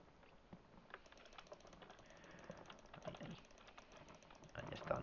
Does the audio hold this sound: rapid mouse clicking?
yes